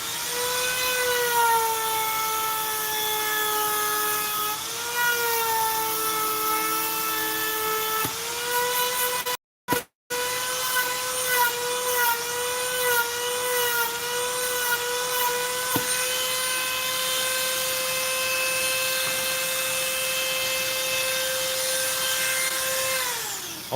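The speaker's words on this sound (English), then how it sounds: "My Dremel spins this way. So if I try to go against the way it's spinning, it's going to dig in and burrow into my foam" A Dremel rotary tool carving foam whines at a high, steady pitch close up, its tone dipping and rising as it bites into the material, with a brief cutout midway before the whir resumes.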